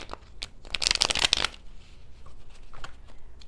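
Intimate Tarot cards being shuffled up close, a burst of rapid riffling clicks followed by softer sliding and tapping of the deck, with no talking.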